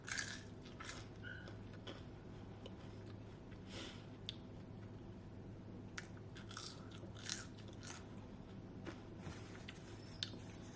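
Someone bites and chews air-fried KFC french fries up close. The crisp crunches are faint and irregular over a steady low hum, and there is no talking.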